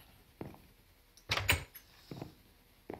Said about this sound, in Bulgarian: Влизаме вътре, затваряме вратата